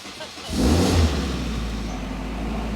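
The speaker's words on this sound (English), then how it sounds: "Hop in the car, due to the OEM, hit the starter button." A car's starter motor cranks after a push-button start, the engine catches, then settles into a steady idle nearby.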